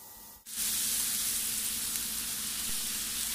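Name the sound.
stirring salt and pepper seasoning into the frying dish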